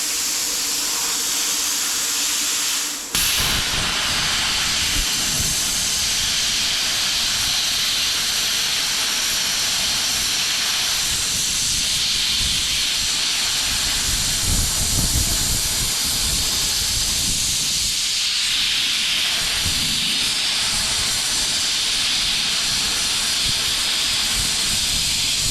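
A bestarc BTC800DP 80-amp plasma cutter slicing through 1-inch-thick metal: loud, continuous roaring hiss that kicks in abruptly after a short hum and holds steady throughout.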